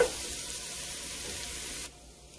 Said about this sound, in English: And let them saute and cook slowly.